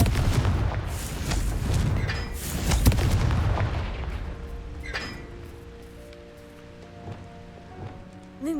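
A Confringo fire spell blasts in the Hogwarts Legacy video game, loud booming impacts and crackling bursts tumbling over one another for the first few seconds, then fading into a softer magical tail with tonal chimes.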